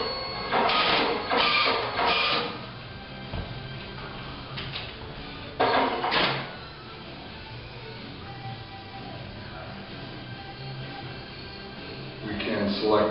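A photo booth kiosk printer feeds and cuts prints in several loud whirring bursts, with quieter mechanical running between them, while a person talks nearby.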